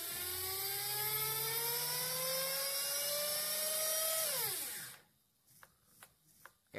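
An OXY 2 FE RC helicopter's electric motor on a bench whines up slowly in a soft start and holds a loud, rising tonal whir. It winds down sharply near the end, leaving a few faint clicks.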